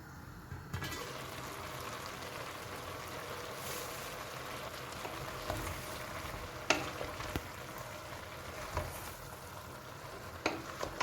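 Green beans and onions fry in vegetable oil in a pan, a steady close sizzle with the occasional scrape and clink of stirring.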